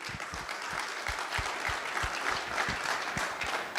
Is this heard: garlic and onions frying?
no